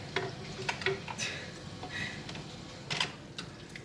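Several sharp little pops and clicks from sealing canning jars of home-canned beans, scattered over a few seconds, fairly close, with light clattering and kitchen noise in between.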